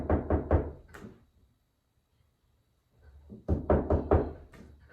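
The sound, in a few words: knocking on a door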